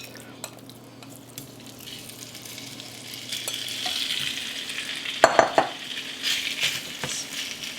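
Beef goes into a hot pan of sesame seed oil for a beef and broccoli stir fry, a sizzle building steadily after a few quiet scrapes, with sharp metallic clinks of a utensil against the pan.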